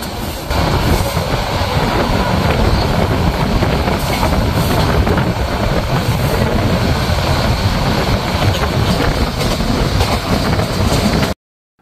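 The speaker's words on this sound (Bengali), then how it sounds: "এর সাথে আমরা গোরাশাল রেল স্টেশন থ্রুপাস করে যাচ্ছি।" Train running through Ghorashal railway station in Bangladesh, a loud continuous rumble of wagons with rhythmic wheel clatter heard from on board, ending abruptly.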